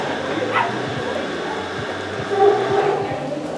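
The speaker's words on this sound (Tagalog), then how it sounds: "There are dogs everywhere." Dogs bark and yip intermittently in the open on a rainy walk to St Nectan's Waterfall in Cornwall, heard at a moderate distance over steady background rumble.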